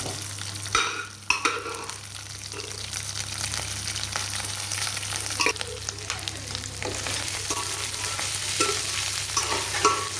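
Boiled lentils stirred into fennel seeds fried in hot oil, a steady close sizzle with repeated stirring scrapes and a few sharper knocks near the start, no voices.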